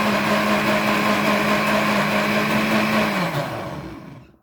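A blender whirs steadily at high speed while blending a fruit smoothie with water, a loud sustained motor whine that holds its pitch, then winds down and fades out near the end.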